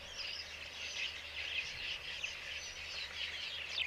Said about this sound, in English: different birds calling